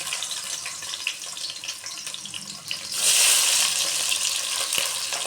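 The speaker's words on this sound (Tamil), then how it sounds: "வெங்காயத்தை போட்டுக்கிறோம். சின்ன வெங்காயம் நறுக்கி வச்சுருக்கேன்." Shallots hit hot oil with a sudden loud sizzle midway through, a broad hissing crackle that stays steady after a quieter stretch of cooking noise.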